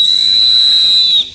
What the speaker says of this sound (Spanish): ¿Qué suena el silbato?